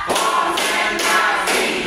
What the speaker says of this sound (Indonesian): Satu, tepuk dua, tepuk tiga, tepuk empat